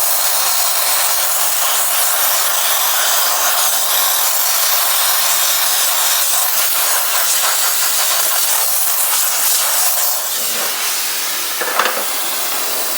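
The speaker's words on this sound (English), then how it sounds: "a steamer is going to be your best friend." A carpet cleaning steamer gives a loud, continuous broadband hiss held close for the whole stretch, dipping slightly near the end with a brief rattle, no voices.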